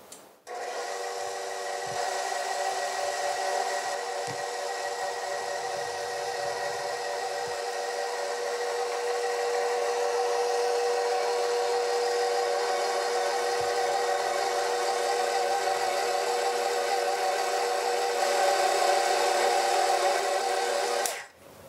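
A mixer churns cacao coconut macaroon mixture, giving a continuous steady motor hum with a grinding, rubbing edge that runs at an even loudness for about twenty seconds, close by and with no talking.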